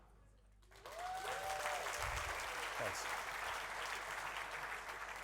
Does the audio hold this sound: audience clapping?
yes